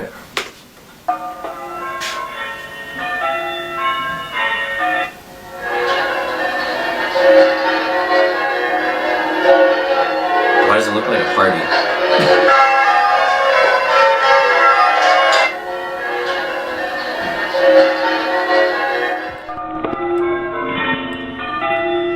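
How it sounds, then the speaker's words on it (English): Church bells ring from a bell tower as a call to worship, a dense sustained clangor of overlapping tones that stops abruptly near the end, with people talking over it. "Like a bell tower thing to let everyone know it's time to pray, I guess."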